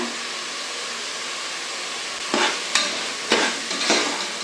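Tomatoes frying in a pan sizzle in a steady hiss while a utensil stirs them, with a few sharp scraping strokes close up in the last couple of seconds.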